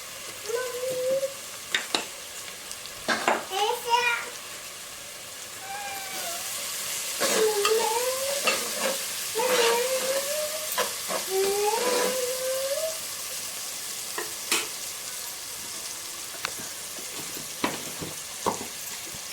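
Coriander powder, spices and salt roasting in a pan while being stirred, with intermittent scraping and clattering strokes and a soft sizzle, close and fairly loud, with quiet pauses between bursts.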